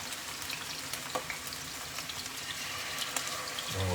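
Scallops sear in hot grapeseed oil in a pan, a low continuous sizzle and crackle with scattered small pops running steadily, with a brief clunk and a low hum near the end.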